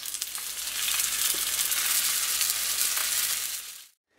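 Chicken and bell pepper cigars fry over low heat in a pan, a steady, loud, close sizzle that runs unbroken for about four seconds before cutting off abruptly.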